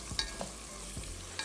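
Bone-in chicken frying in a pan with a few brief stirring scrapes over a faint steady sizzle, quiet and short.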